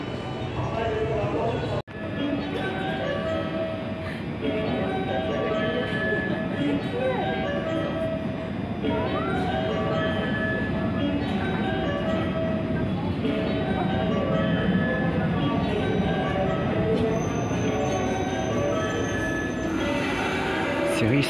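A JR train rumbles and clatters steadily at close range in Himeji station, Japan, with a continuous rolling roar and faint metallic squeals through most of the clip.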